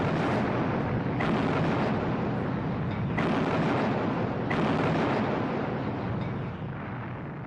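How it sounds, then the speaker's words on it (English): Heavy naval gunfire from British warships shelling the French fleet in 1940, a dense sustained roar of booming blasts with several sharp new salvos on top, loud and continuous without pause. "So the British opened fire on their former allies."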